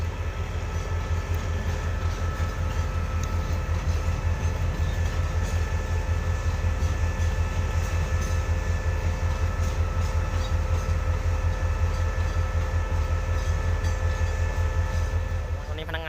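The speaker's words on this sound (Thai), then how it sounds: "ำสับเปลี่ยนรถน้ำมันครับอยู่ในย่านสถานีนครลำปาง" Shunting locomotive moving oil tank cars in the Nakhon Lampang station yard, a loud steady diesel rumble with rolling wagon noise, continuous and close throughout.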